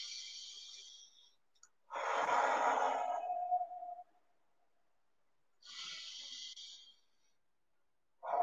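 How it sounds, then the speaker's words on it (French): Long, slow relaxation breaths heard up close: a drawn-out airy exhale that ends in a low sighing tone, a pause, then another breath, alone in a quiet room. "On va commencer par faire 5 longues respirations ensemble."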